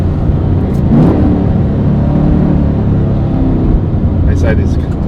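A VF HSV Maloo R8 ute engine accelerating, a loud steady low rumble heard from inside the cabin, building slightly with a faint whine, continuous throughout.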